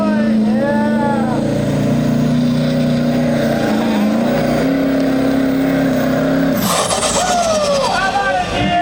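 Diesel pickup in the 8,200-pound class roaring down the track at an Illinois truck pull, a loud sustained engine drone with rising and falling tones throughout, overlaid by an announcer talking over the arena speakers.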